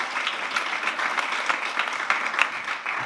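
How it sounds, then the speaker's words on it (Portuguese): A church congregation claps steadily for about three seconds, a dense, continuous patter of many hands with no voices standing out. "Dê um aplauso de verdade."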